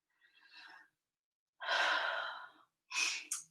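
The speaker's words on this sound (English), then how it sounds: "Take a deep inhale and exhale." A deep breath in and out, heard as a soft short intake, a long loud airy exhale, then two quicker breathy bursts, close and alone with no talking.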